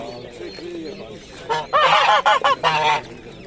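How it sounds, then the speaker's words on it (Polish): Several loud, nasal domestic goose honks in quick succession, close by at a livestock market in Michów, Poland, after a quieter stretch of faint background noise. "A tu co tu za gęsi się odzywają?"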